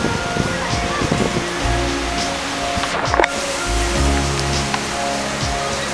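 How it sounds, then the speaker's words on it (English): Hurricane Irene storm surge washes into a flooded coastal street in Port Washington, New York, a steady roar of churning water and wind noise, with someone speaking over it at times. "We even have some waves in the street."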